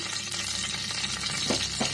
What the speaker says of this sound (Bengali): দারচিনি দিয়ে দিলাম